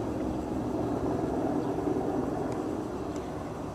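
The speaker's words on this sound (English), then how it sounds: "I'm sure this is a helicopter that flew over the house" A helicopter flying over a house before dawn produces a steady, muffled low rumble and drone that holds constant throughout, distant and faint, with no voices.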